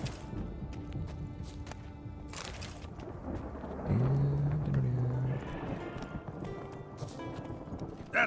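A horse gallops in The Witcher 3 video game with a steady rhythmic clip-clop of hooves under ambient game sound, and a short whinny partway through.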